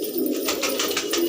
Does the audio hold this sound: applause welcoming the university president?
no